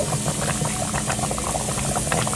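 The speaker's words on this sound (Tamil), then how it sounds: "குழம்பு நல்லா கொதிச்சிச்சு" Anchovy fish curry (nethili kuzhambu) bubbling hard in a pot, a dense, continuous close-up boil with popping bubbles and a steady loud rush.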